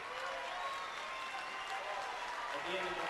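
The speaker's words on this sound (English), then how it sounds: "You hear the Broomfield crowd." Broomfield crowd at a 2012 Class 4A boys basketball quarterfinal against Golden, a steady wash of cheering and applause through an indoor gym, with a murmur of voices underneath.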